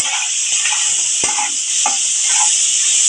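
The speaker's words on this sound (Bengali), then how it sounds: "এবার আমি চিংড়ি মাছগুলো দিয়ে দিচ্ছি আমি আর চিংড়ি মাছগুলো মাখালাম" Prawns are stirred with salt and turmeric in a hot pan, giving a steady sizzle with a few soft scraping and clinking touches of the spatula, and no talking.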